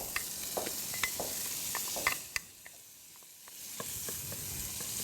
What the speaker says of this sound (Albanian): ja fillojmë neve me këto që të zbutim pak spinaqin edhe qepën